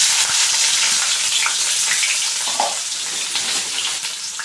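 Onion, mustard seeds, cumin and small chillies fry in hot oil with a loud, dense, watery sizzle. It stays steady throughout, with a brief bubbling burst partway through.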